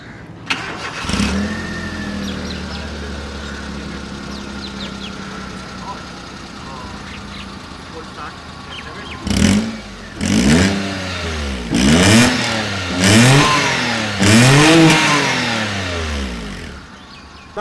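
An older car engine cranks and catches, settles into a steady idle, then is revved four times in quick swelling bursts, each rising and falling loudly close by.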